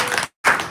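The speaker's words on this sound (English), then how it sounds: "she deserves a clap." Brief burst of audience applause at a live event at the University of Ibadan, Oyo State: dense clapping that stops for a split second, then resumes just as loud.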